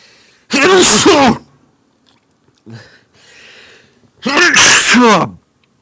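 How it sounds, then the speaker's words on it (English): Two loud, close sneezes a few seconds apart, with a small sniff or breath between them. "I don't know where I'm getting the sneezes from"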